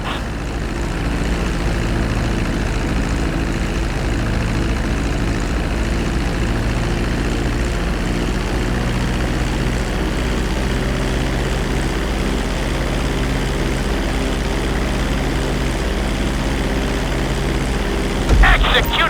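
Propeller airplane in GTA 5 gliding in to land on a runway, a steady droning engine hum with low rumble holding level throughout, ending in a brief louder bump near the close.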